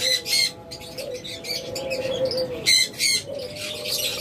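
A creamino opaline parakeet gives bright, high chirps in quick bursts, close by, with short pauses between them and a faint steady hum underneath.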